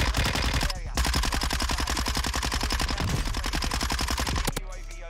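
Mini Bak SMG firing in Warzone 2: a long, rapid automatic burst of close, loud, evenly spaced shots, followed by a brief pause and a final few rounds.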